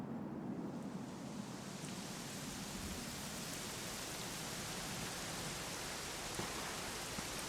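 Steady, dense rainfall in the video game Dragon Quest XI fills the scene with constant hiss, no breaks or voices, evenly loud throughout.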